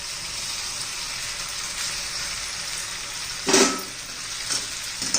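Pasta tipped into a frying pan for a homemade masala pasta, a soft steady sizzle broken by one loud rushing splash and a few lighter clinks and stirs afterward, with no talking.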